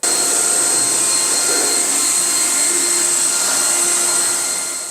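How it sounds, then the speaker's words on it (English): A handheld blower drives a loud, steady rushing roar of air over car headlights being restored, with a high whine running throughout and the sound fading slightly at the end. "I'm going to blow this off with my blower."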